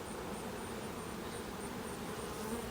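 Honey bees buzz during a hive inspection, a faint, continuous drone with no pauses and no voices.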